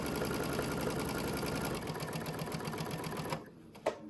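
Sewing machine stitching a Christmas shoebox doll, a fast steady mechanical whir and needle clatter close up, slowing slightly before stopping near the end with a small click.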